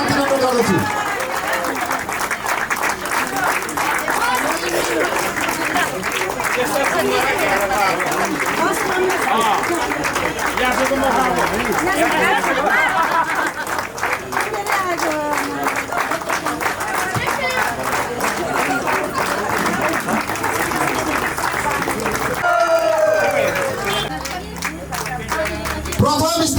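At a road race prize ceremony, a crowd claps long and steadily, dense and loud throughout, while a voice talks over the applause.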